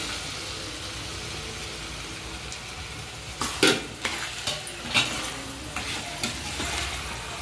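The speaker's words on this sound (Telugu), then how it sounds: "ఉల్లిపాయలు అయితే బాగా మగ్గినాయి కదండి. బంగాళదుంప అయితే వేసేస్తున్నాను." Potatoes tipped into a pan of well-softened frying onions for a potato curry and stirred, giving a steady low sizzle with a few louder scraping stir strokes in the middle, no talking.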